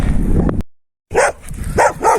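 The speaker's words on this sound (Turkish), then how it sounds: "bir sürü köpek var" Several dogs bark loudly and close by in short bursts, a brief silent gap splitting the barking partway through.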